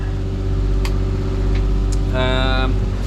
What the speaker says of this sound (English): As you can probably hear, we got the engine on now